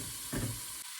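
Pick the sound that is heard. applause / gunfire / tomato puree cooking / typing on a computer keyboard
tomato puree cooking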